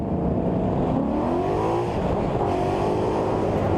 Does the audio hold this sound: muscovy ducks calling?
no